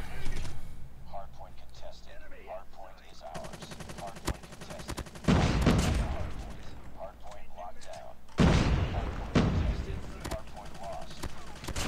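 Bursts of automatic gunfire from a gun in COD Mobile, rapid repeated shots in several volleys with booming impacts, mixed with game sounds and a voice talking over the action.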